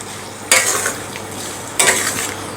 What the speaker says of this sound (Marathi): आता आपण हे व्यवस्थित मिक्स करून घेऊया आणि मिडियम गॅसवरती आपल्याला हा मेथांबा शिजवून घ्यायचा आहे